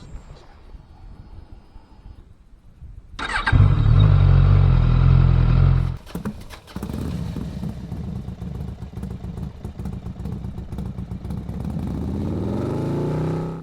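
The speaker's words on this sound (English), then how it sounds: "today I'm going to take you for a ride on my brand new 2020 Suzuki Katana" A 2020 Suzuki Katana motorcycle engine starts up after a quiet lead-in, with a loud revving burst followed by a steady, close idle running to the end.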